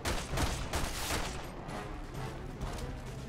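Repeated gunfire in Resident Evil 6, a run of rapid close shots with clattering impacts, moderately quiet and continuous, with no speech.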